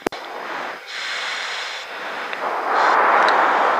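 An L-39 jet engine spools up to full power on the runway, heard from the rear cockpit as a loud, steady rushing whine with rising intensity and a few brief clicks over the roar.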